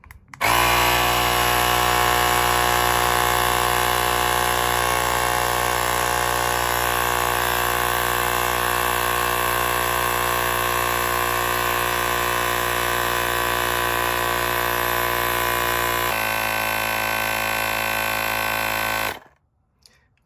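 An electric air pump inflates a wheelbarrow tire with a loud, steady motor drone close by. The tone shifts slightly near the end before the pump cuts off abruptly.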